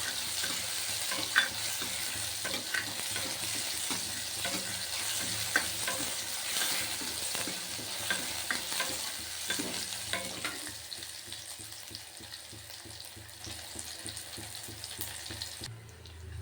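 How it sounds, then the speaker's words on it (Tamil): Green turkey berries (sundakai) frying in oil in a kadai, a constant crackling sizzle with repeated scraping stirs up close, easing slightly toward the end, no voices present. "பச்சை சுண்டைக்காவை கடாயில் எண்ணெய் ஊற்றி பச்சை சுண்டைக்காவை வதக்கி எடுத்துக்கணும்."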